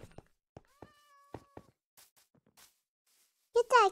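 Cat meows from the video game Minecraft: a short tonal mew early, then a louder, rising meow burst at the end, with sparse knocks and brief voices between.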